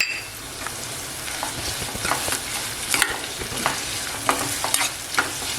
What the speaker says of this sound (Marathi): कांदा लवकर नरम होण्यासाठी ना आपण मीठ टाकतोय